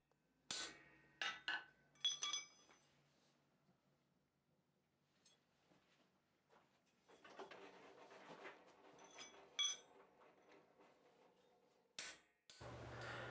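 Square-face chisel struck with a hammer through hot steel down to the anvil: sharp ringing metallic blows in small bursts, close, separated by quiet pauses and light clinks.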